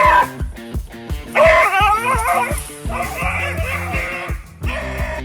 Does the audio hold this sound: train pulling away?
no